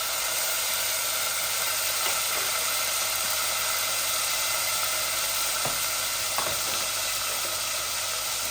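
Onions frying in a pan of hot oil for a rohu fish-head curry, a steady close sizzle with a couple of soft stirring scrapes and no talk.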